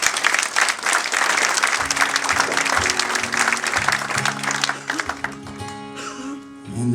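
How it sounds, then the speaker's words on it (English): A live concert audience applauds a band of performers, loud dense clapping that continues as sustained musical tones begin underneath, with the clapping thinning out toward the end. "So give the boys a round of applause."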